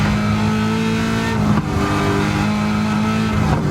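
The Garage 56 NASCAR Le Mans Camaro ZL1 race car's engine drones loud and steady after a downshift to fourth gear, a brief dip in the middle before the revs build again, heard close from on board.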